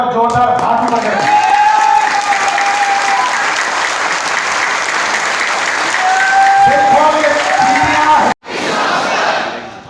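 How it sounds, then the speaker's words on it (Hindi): A large audience at a business gathering claps and cheers loudly and continuously, a dense roar of hands with raised voices and whoops throughout, cutting off briefly near the end before resuming. "तालियां बजाओ पर जोरदार हाथ बजाओ।"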